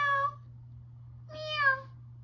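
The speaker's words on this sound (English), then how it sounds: "Meow." A domestic cat gives two distinct meows, the first short and the second longer and rising, close by over a faint steady low hum, with no talking.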